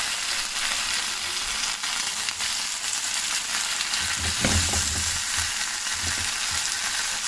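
Chicken sizzles in a pan as it roasts and is carefully turned, giving a constant loud hiss and crackle. Low scraping and stirring thumps from the turning stand out near the middle.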